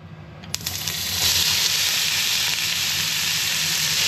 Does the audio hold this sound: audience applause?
no